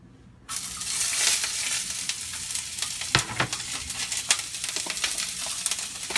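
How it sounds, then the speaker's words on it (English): Vegetables hit a smoking-hot pan and erupt into a loud, steady sizzle that holds throughout, punctuated by occasional scraping and tossing sounds close by. "Now we're gonna go ahead and throw in our vegetables."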